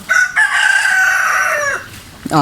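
A rooster crows once, loud and close, a long drawn-out call with a brief break near the start, followed by a short squawk at the end.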